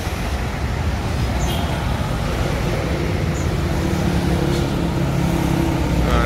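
A Sari Mustika bus pulls into a bus station, its engine a loud, continuous low rumble blended with surrounding road traffic, with no talking.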